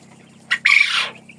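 A single hen gives a short cluck and then a longer, drawn-out squawking call, close by against a low steady hum.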